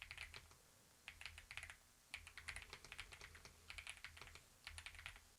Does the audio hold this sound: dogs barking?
no